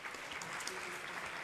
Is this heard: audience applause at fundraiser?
yes